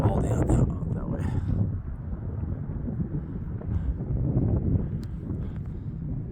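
Wind gusts across a microphone on a mountain trail near Mount Baden-Powell, a rough low rumble that is strongest at the start and keeps buffeting under a voice that talks throughout.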